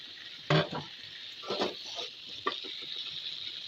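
Beans and potatoes with green chili being stirred in a frying pan, a few scraping stir strokes over a soft steady sizzle, close and fairly quiet, with no talking.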